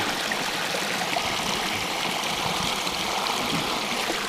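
A creek running beside a mountain hiking trail, a steady broadband rush of flowing water that stays constant and close throughout, with no voices.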